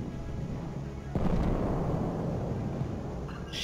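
A tank fires in the video game Battlefield 1 during a Conquest match on the Ballroom Blitz map. Low background rumble gives way to one heavy, loud blast, followed by a long, rolling decay that fades over the next couple of seconds.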